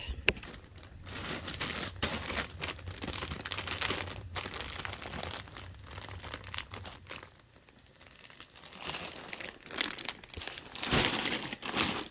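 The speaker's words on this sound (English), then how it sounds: "I'm going to press the air out before I zip it up." Clothes packed in a vacuum storage bag being pressed flat, steady plastic crinkling and rustling that continues for several seconds, close by, with a brief quieter stretch and no talk.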